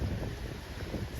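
Strong wind on a stormy day in Crimea roars steadily against the microphone as a low, buffeting rumble, with no talking.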